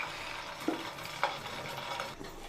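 Cauliflower 65 pieces drop into hot oil for deep frying, giving a steady close sizzle with two sharp splashy bursts as pieces hit the oil.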